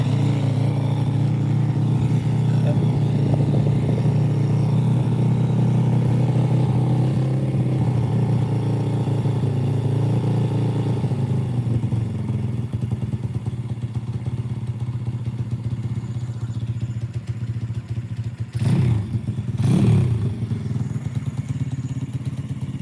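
A custom RFZ motorcycle engine at its first start-up, idling loudly and steadily close by, with a couple of brief revving bursts near the end.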